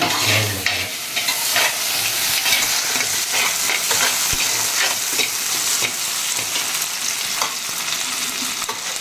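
Crushed garlic, ginger and curry leaves sizzle and crackle loudly in hot oil as a ladle stirs them, with scraping clinks against the pan throughout.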